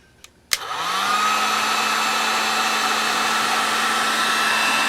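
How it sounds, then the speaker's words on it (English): After a couple of faint clicks, a heat gun switches on and blows hot air steadily at a sticker on a snow brush, its whining motor rising quickly to a constant, loud, even roar. "And move your heat gun around."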